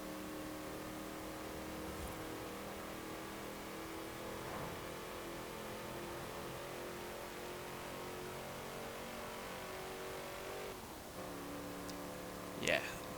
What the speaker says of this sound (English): it's not a nice sounding engine, it's really quite a drone, so I'll just let you listen to that for a little bit